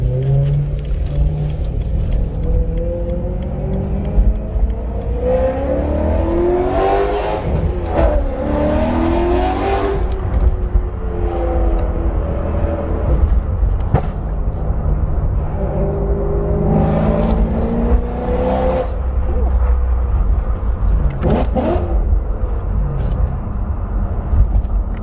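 Loud BMW E92 M3 V8 engine revving hard, with rising and falling pitch sweeps over a steady deep rumble, continuous and close for the whole stretch.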